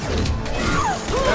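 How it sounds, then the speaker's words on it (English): Concussive shot ability fired in Mass Effect 2, a dense crashing burst with mechanical rattle and whooshing sweeps, loud and close, lasting just over a second. "Firing concussive shot."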